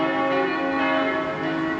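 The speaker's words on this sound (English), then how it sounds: "It's lovely to hear the bells ringing." Church bells ringing from a monastery or castle above Füssen, a steady overlapping peal of resonant tones that sounds continuous and moderately loud across the whole short stretch, with no voices.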